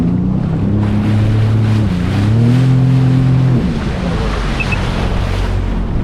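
A Sea-Doo personal watercraft cruises on the French River, its engine droning loud and steady with shifting tones, mixed with rushing water, spray and wind buffeting the microphone throughout.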